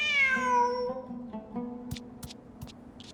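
A cat meows in the Genshin Impact video game, one long, clear meow that falls away into softer trailing tones, followed by a few faint clicks, close and with no talking.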